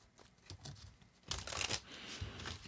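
Tarot cards shuffled by hand in soft, quiet bursts of papery riffling and brushing, with a denser flurry of card noise in the middle.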